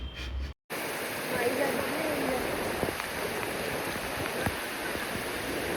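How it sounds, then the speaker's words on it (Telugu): Flowing water and steady rain in the Andharban forest make a continuous broadband wash that holds level throughout, broken only by a brief dropout near the start, with a few faint taps rising above it. "వాటర్ సౌండ్ అయితే ది బెస్ట్ వింటున్నారు కదా"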